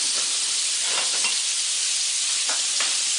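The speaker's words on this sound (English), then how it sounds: "We're going to go ahead and blacken one on each side." Blackened catfish frying in melted butter in a hot skillet, a loud steady sizzle and hiss with a few brief spatters, close up and without talking.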